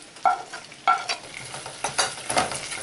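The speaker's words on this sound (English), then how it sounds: "Now in this melted butter we'll add our coriander powder, chana masala and the garam masala." Coriander powder, chana masala and garam masala frying in melted butter while a spoon stirs them, with sharp scraping strokes in an uneven rhythm over a soft sizzle, close and without speech.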